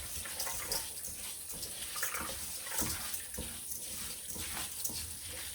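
Cold water runs steadily from a kitchen tap in a continuous splashing rush, close by and uninterrupted throughout.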